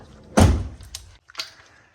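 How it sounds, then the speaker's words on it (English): A damaged, totaled Jeep Cherokee door shuts with one loud, close thud, followed by a couple of fainter clicks and knocks from the latch. "But somehow the door still opens and closes perfectly on both sides."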